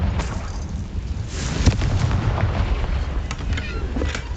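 Repeated Confringo fire-spell blasts in the video game Hogwarts Legacy boom and crackle, with sharp impacts and a rumbling fiery roar close at hand over a brief stretch.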